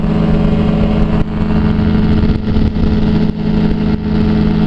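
A light airplane engine drones loudly and steadily in the cockpit after power is brought back to 6,000 RPM, with a constant low hum and only slight dips in level.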